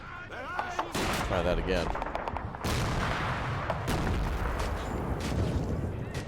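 Gunfire rattles and booms in the World War II strategy game Men of War: Assault Squad 2, dense bursts of shots with a grenade blast, loud and continuous while someone speaks briefly over it.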